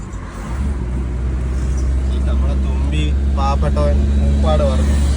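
Steady roadside traffic with many cars and buses rushing past close by, a continuous loud engine and tire roar throughout, with voices talking over it.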